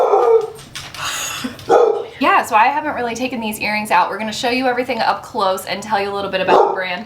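A pet dog barks and yips a few times, close and sharp, partly overlapping with two people chatting indoors.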